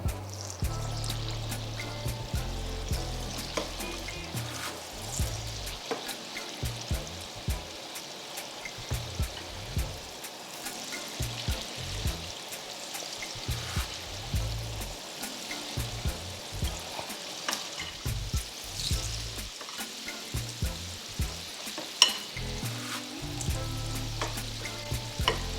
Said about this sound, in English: Oil is definitely very hot. You see The batter turns golden as soon as it hits the oil.